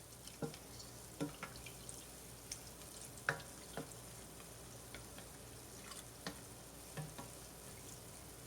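Gulab jamun frying over a slow flame, with a quiet, steady low sizzle broken by scattered soft pops and bubbling ticks.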